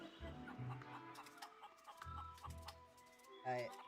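Chickens clucking in a Monkey Island adventure game, a few short clucks and squawks over game music, with a louder squawk near the end.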